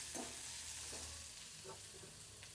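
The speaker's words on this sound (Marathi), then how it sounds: "आता हा कांदा मस्त भाजून घेऊया" Onion sizzling in a pan with cumin seeds and curry leaves, a steady bright hiss of frying oil with a few soft scrapes of stirring, close and unbroken.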